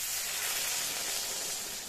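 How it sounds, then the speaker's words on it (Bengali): Water poured into a pan of sizzling vegetables with dried fish, potato and eggplant sets off a loud, steady hiss of steam that fills the whole short moment, close and unbroken. "তো সবজিটা কষে গেল, এবার এতে আমি জলটা অ্যাড করে দিচ্ছি।"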